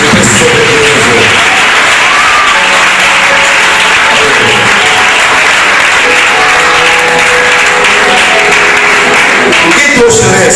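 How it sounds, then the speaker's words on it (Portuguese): A church congregation claps hands for Jesus, a loud continuous wash of clapping throughout, with voices and sung or spoken tones carrying over it. "Bate palmas para Jesus"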